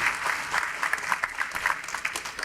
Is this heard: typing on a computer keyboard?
no